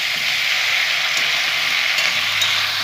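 Food frying in a pan over a high gas flame, a loud continuous sizzle and hiss with faint stirring scrapes, close and steady without talk.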